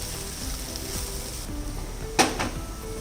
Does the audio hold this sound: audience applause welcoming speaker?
no